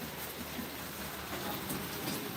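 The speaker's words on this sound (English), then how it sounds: "It's still raining out here." Rain falls steadily outdoors, an even broadband hiss of drops on surfaces that holds without a break, with no voices present.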